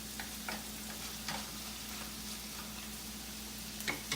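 Onions and garlic fry in a pan with a steady, close sizzle, broken by a few soft stirring scrapes and tosses.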